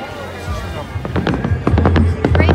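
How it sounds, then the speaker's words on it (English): Fireworks at a half marathon start line with thousands of runners, a quick burst of sharp crackling pops growing denser and louder, mixed with crowd noise and voices. "Start line fireworks."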